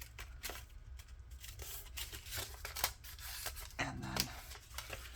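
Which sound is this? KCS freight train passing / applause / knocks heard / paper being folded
paper being folded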